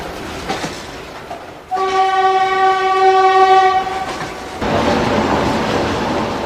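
Freight trains on the Trans-Siberian Railway in Russia, with a loud sustained train horn blast over rumbling rolling stock and clattering wheels, no talk.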